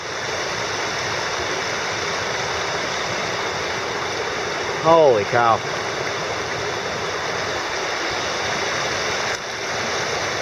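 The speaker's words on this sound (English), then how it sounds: "That waterfall is right up here." Rushing waterfall and stream beside a backcountry lean-to on a 50-mile backpacking loop in New York, a steady loud broadband roar throughout, with a brief exclaiming voice in the middle.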